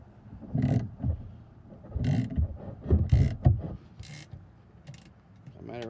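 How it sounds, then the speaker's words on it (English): A ratchet with a Craftsman Extreme Grip 3/8-inch drive socket works on a stripped bolt, giving several bursts of clicking and grinding mechanical noise with short pauses between strokes. "So we will try to just get the stripped bolt here."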